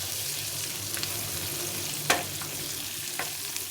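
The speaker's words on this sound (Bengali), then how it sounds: "গাজরটা দিয়ে একটু নেড়ে চেড়ে" Carrot pieces sizzle and crackle in a hot pan as they are stirred, making a steady close frying hiss with occasional light scrapes and one sharper utensil knock midway.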